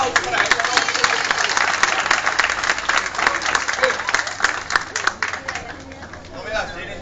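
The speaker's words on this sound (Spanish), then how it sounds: "Un aplauso para ellos." Audience applause at an improvised music and theatre performance in a Metro Valencia station, Xàtiva: steady, dense clapping from a crowd, loud and close, running for several seconds before thinning out at the end.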